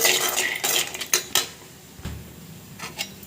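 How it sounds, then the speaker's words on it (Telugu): A metal spoon stirs lentils as they dry-roast in a pan, making a run of scraping and clinking sounds against the metal. The bursts are close and irregular, with quieter gaps between, and there is no talking. "ఇలా పప్పుని వేయించుకోవాలి"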